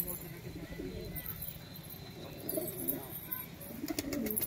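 Pigeons of a high-flying Bengali breed coo in a low, steady murmur close by, mixed with rustling and someone talking over them.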